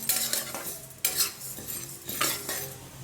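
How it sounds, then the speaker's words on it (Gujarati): Ingredients for a fasting handvo dry-roast in a pan while a spoon stirs them. Three distinct bursts of scraping and rustling come close and loud, with a faint sizzle underneath. "પછી આપણે એને સવારે હવે ડ્રાય રોસ્ટ એકદમ 3 થી 4 મિનિટ સુધી શેકી લઈશું."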